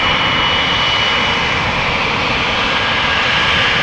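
Loud, steady roar of aircraft engines at an Amsterdam Schiphol Airport runway, a continuous broadband drone with no break and no talking.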